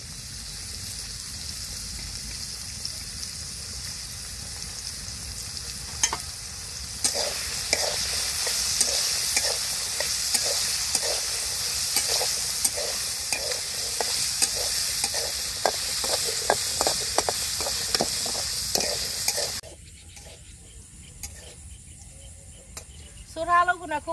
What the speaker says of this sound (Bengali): তেল দিয়ে আলু গুনে ভাজুম।